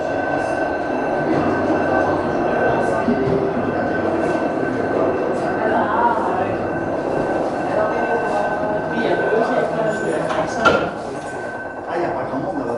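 A funicular railway car runs toward its upper station, giving a steady rumbling ride with a faint whine, then light clinks and a brake squeal near the end. Quiet talk can be heard underneath.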